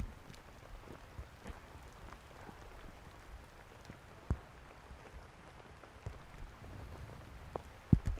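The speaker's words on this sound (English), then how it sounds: "because it's raining so heavily and that is tough" Heavy rain falls on a disc golf course during a tournament round, making a faint, steady wash of patter with a few sharper drops or thumps scattered through it.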